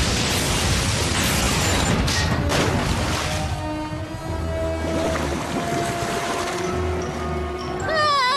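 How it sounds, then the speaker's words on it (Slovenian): A lightning strike hits a ship with a loud crashing boom through a roaring, turbulent din, followed by rumbling and shifting noise that stays loud throughout. "To je bil zelo točen udar strele."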